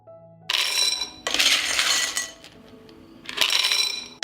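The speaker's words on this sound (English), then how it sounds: "I'll fill the pasta jars." Dry pasta poured into a glass jar for food storage, three bursts of bright rattling and clinking pieces, close and loud, separated by short pauses.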